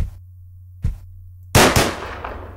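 Gunfire bursts out in the video game Deadbolt: a soft thump, then a loud sharp double blast with a quickly fading tail over a low steady hum, with no talking during it.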